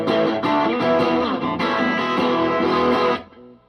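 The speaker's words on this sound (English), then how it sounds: "Bridge pickup single coil is pretty rocking, right? You can hear the single coil 60 cycle hum." Electric guitar, a DiPinto Mach IV played through its single-coil bridge pickup with gain, gives out a dense distorted chord passage that cuts off near the end and leaves a faint residual hum.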